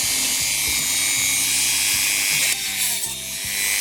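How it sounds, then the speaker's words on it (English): Close, rhythmic buzzing and grinding of a Dremel rotary tool working on a part of a German Black Forest novelty quarter-hour cuckoo clock, in short repeated passes that briefly stop near the end. "I'm only using the Dremel on about half"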